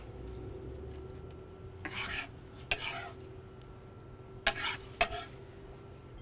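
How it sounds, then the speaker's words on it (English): Crab ceviche ingredients from the garden are stirred in a bowl, with a few soft wet scrapes and brief rubbing strokes separated by pauses, quiet and close, with no voices. "Let's give it a mix."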